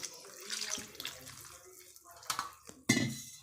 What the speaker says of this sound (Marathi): चांगलं असं आपल्याला पाणी टाकून धुवून घ्यायचं आहे।